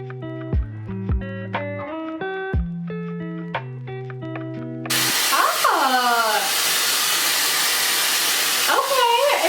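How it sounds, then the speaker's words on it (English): A Luxx Air Pro 2 hair dryer on high heat and airflow starts with a sharp jump into a loud, steady rushing hiss that holds for several seconds, after a stretch of tonal music, with a few brief voiced sounds over it. "use the third heat and third airflow setting and hold it for 5 to 10 seconds or until your hair is dry"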